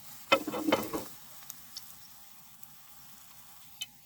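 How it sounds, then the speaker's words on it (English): Battered daisy fritters drop into hot oil with a loud burst of frying and bubbling, then settle into a faint, steady sizzle dotted with sparse crackles and pops. "You can see it's starting to fry and bubble."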